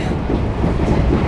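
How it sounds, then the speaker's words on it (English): Riding aboard a train in Japan near Matsumoto: a loud, dense, steady rumble of wheels and carriage noise fills the space continuously, with no voices. "We're on a train."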